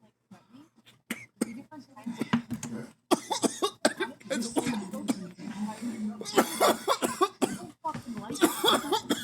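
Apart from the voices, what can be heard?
coughing after smoking cannabis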